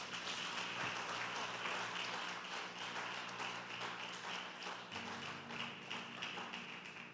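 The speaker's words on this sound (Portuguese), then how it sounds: "Desocupe as mãos e aplauda Jesus." A church congregation clapping continuously, a dense, steady wash of applause from a crowd in the hall, with organ or keyboard tones holding underneath.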